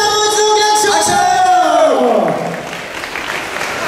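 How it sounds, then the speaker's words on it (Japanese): Live audience applauds a guest act named Magnolia after an energetic set, loud clapping with cheers and whoops filling the space, while a voice and tonal sweep ride over it before the clapping thins toward the end. "もう一度お客さん拍手。"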